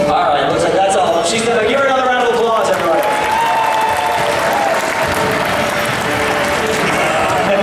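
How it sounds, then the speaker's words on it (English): Crowd at a live Fear Factor stunt show at Universal Studios Orlando applauds, a steady wash of clapping and cheering under loud, overlapping talk and shouting from the stage. "She's gonna give her another round of applause, everybody."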